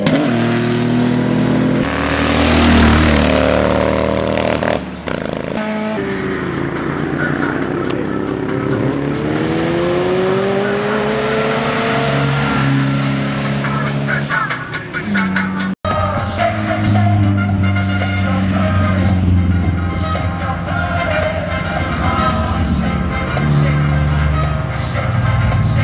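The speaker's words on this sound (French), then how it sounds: "Les voitures de compétition, les voitures de tourisme et grand tourisme qui ont été modifiées ou fabriquées." Modified touring and grand touring race cars rev hard and accelerate at Marchairuz, their pitch climbing and falling in sweeping waves, loud and close for the whole stretch.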